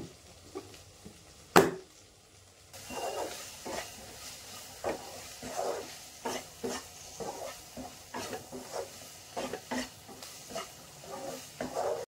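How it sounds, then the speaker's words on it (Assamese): Vegetable bhaji cooks in a pan at home, with a sharp knock near the start, then a soft hiss and a run of rhythmic stirring scrapes and taps at close range. "গতিকে এইখিনি ভাজি লওঁ"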